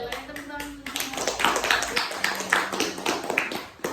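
A student group in a classroom counseling session performs a rhythmic spirit clap, sharp patterned bursts of hand claps in quick clusters, mixed with voices chanting and talking close by.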